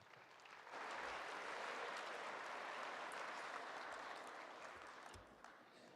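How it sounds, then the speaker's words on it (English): An audience at the Saskatchewan Municipal Awards ceremony breaks into loud, sustained applause for the award winners. It swells in quickly after a short quiet lead-in and holds steady before tapering off near the end. "Big round of applause, please."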